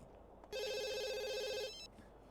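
A telephone rings in The Sims 2, one bright electronic ringtone burst of just over a second, clear and close, with quiet room sound on either side.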